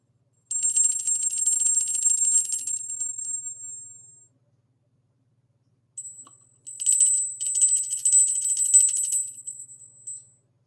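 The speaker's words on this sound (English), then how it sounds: "Listen to the difference in the bells." Several different bells struck one after another, with high, bright ringing tones that sustain and decay, in two bursts separated by a short silence.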